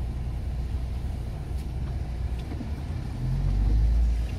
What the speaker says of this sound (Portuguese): Um carro amarelo.